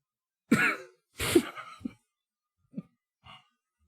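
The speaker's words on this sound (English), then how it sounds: "Sorry, I had a cough." A man coughs two strong bursts up close, then gives a few soft throat-clearing grunts and small noises that trail off into quiet.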